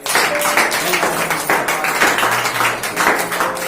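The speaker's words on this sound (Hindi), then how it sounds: "तो मैं चाहता हूँ कि प्रभु यीशु मसीह के सब लोग जोरदार ताली बजाएं" Church congregation applauding loudly together, a dense, sustained wash of hand claps lasting the whole stretch with no clear gaps, close and full.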